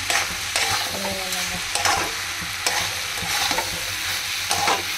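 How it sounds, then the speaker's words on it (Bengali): Soya chunks frying in oil while being stirred, a loud continuous sizzle with regular scraping strokes of a spatula against the pan, close by, with no talking. "তেল দিয়ে সয়াবিনগুলো দিয়ে দেবো, ভালো করে"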